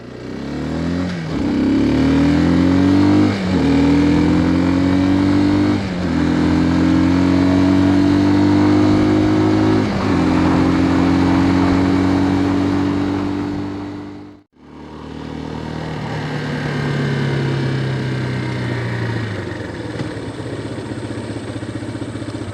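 A 2022 Bashan Brozz 250, a Chinese CG250-type motorcycle with upgraded clutch springs, rides at low speed in low gear, its single-cylinder engine loudly revving up through repeated gear pulls, then briefly cutting out before droning on.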